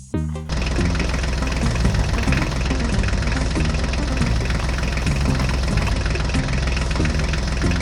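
A mini tractor engine runs steadily and loudly throughout, with a dense, continuous mechanical rumble and no talking.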